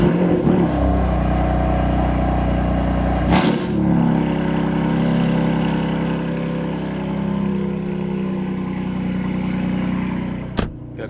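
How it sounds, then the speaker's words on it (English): A car engine cold-starts with a loud roaring rev that drops after a few seconds into a steady, lower warm-up idle, with a brief clunk near the end and no talk. "Get a little cold start here."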